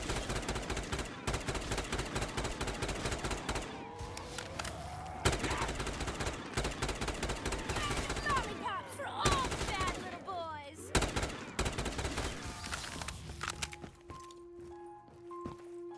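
A two-round-burst sniper rifle fires in Black Ops 3 custom zombies amid dense, rapid gunfire and clattering game effects, with loud repeated bursts, brief lulls and electronic tones near the end.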